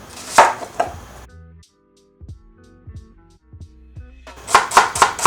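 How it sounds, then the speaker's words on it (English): A knife chops a small onion on a board in a home kitchen, a few sharp close strikes at the start and a quicker burst of chops at the end, with quiet handling noises between. "now we'll chop the onion, small onion"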